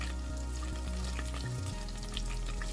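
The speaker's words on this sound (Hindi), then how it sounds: "इस सबको हम फ्राई कर लेंगे" Crushed red chilli and spices frying in oil for Lahori black pepper chickpeas, a continuous close crackling sizzle with faint spatula stirring throughout.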